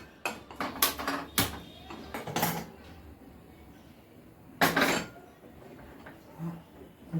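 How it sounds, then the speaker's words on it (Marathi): A pressure cooker being set up in a home kitchen, heard as a series of close metallic clanks, lid and utensil knocks in irregular bursts with quieter handling between them. "अगोदर कुकर लावते"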